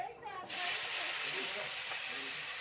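Cut potato and eggplant hit hot oil in a pan and are stirred, setting off a sudden loud, steady sizzling hiss that holds close and continuous to the end after a brief quieter start.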